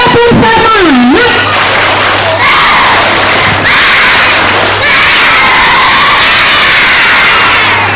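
A crowd of schoolchildren at a primary school's new-year opening shouts loudly together during a group clapping chant, with an adult voice rising at the start and dense, energetic cheering sustained throughout.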